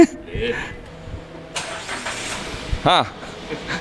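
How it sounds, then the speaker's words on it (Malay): A training car cut in half at an automotive institute cranks and starts, its engine catching in a short burst and settling into a low rumble, with people talking nearby. "Boleh hidup rupanya kereta yang dikerat macam ni."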